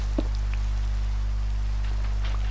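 Rain falls steadily in Minecraft as a continuous, even hiss with faint scattered drips. A low constant hum sits underneath, and no one speaks.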